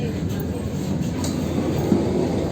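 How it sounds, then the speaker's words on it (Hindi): The Vande Bharat Express running through Gyanpur Road station without stopping, a steady, dense rumble and rattle of wheels on track, continuous and fairly loud, with a faint squeal. "यहाँ से ज्ञानपुर रोड को स्किप करती हुई वंदे भारत एक्सप्रेस"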